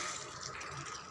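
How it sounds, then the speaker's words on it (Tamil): Water poured from a tumbler into a pan of onion-free chicken gravy, a steady splashing, hissing wash that runs continuously at close range with no voices over it. "இப்போ ஒரு டம்ளர் தண்ணி மட்டும் விடுங்க"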